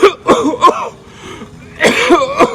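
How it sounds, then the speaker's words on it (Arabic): Dry smoker's cough, performed as a demonstration: a few sharp, hacking bursts up close, a short pause with faint breathy throat noise, then another loud cluster of dry coughs. "هاي كحة المدخنين، هاي كحة جافة"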